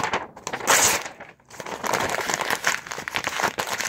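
Paper being ripped and crumpled by hand indoors in a studio, a close run of loud crinkling, tearing bursts with a brief pause before the tearing resumes.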